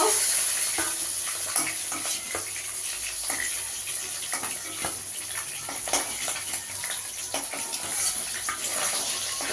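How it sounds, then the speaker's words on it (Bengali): Steady crackling sizzle of stingray fish frying in hot oil, with occasional louder pops and spatters, close and continuous with no talking. "আর মাছটা একটু লাল করে ভেজে নেব"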